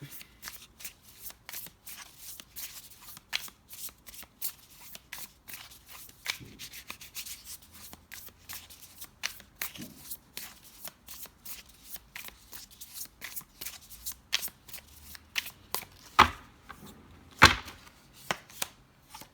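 Tarot cards are shuffled up close, a long run of quick crisp riffling and rubbing with sharper slaps now and then, quiet and without talk.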